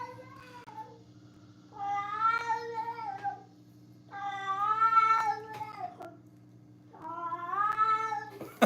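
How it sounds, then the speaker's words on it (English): A pet cat meows in three long, drawn-out, talkative calls, close and clear against a low steady hum, with quiet pauses between them. "My cat is talking."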